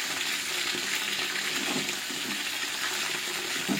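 Beef shank (raan) fries in a pan with a steady, quiet sizzle and hiss that runs unbroken throughout, with no talking.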